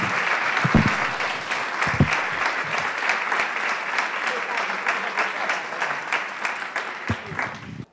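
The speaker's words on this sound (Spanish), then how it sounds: "Aplaudan." An audience applauds steadily during a talk on women in science, a dense patter of clapping with a few sharper close claps standing out, holding at moderate level before stopping abruptly.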